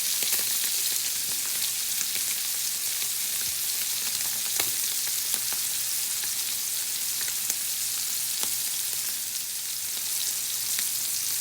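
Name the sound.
scallops searing in butter in a pan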